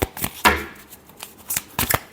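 Tarot cards being shuffled by hand, a few quick riffling bursts and soft slaps in an uneven rhythm, close and fairly loud with no talking.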